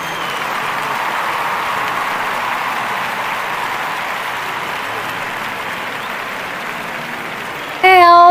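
A bar crowd applauds and cheers in a steady, dense wash of clapping that stays even throughout, and a voice cuts in right at the end.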